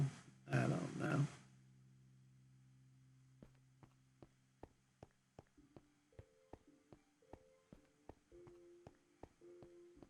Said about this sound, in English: Yes, that was my phone making that noise.